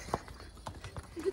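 Horses' hooves on a steep mountain trail at Kufri near Shimla, a few scattered clops close by with people talking over them.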